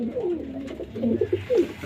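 Pigeons perched overhead give a few soft, close coos in quick succession, each a low rolling call, with little else around them.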